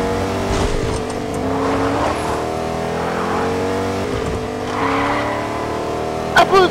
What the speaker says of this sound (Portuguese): Ok, vou apanhar um carro.